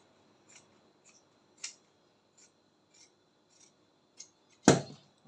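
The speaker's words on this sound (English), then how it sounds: "So all I'm going to do now is to cut or trim off" Scissors trim fabric from a bra cup encasement in a run of quiet, evenly spaced snips, with one louder, sharper cut near the end.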